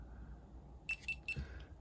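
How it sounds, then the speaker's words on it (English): A Mobius Maxi 4K action camera powers on with three quick, faint, high-pitched electronic beeps in even succession over quiet room noise. "it turns on with the same beep noises that a GoPro has. 3 beeps for on"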